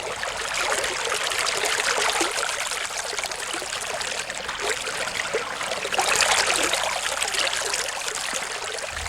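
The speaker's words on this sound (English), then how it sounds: "From a dam on the creek, the water flows through a mill race." Creek water from a dam rushing steadily through a mill race, a continuous broad wash of flowing, splashing water heard close and fairly loud with no voices.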